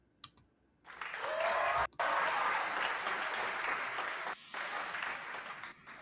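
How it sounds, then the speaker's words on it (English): Enthusiastic audience applause greets a drag performer's entrance on a live show, rising after a few sharp claps into sustained clapping with a brief break, then tapering slightly. "Oh, my applause."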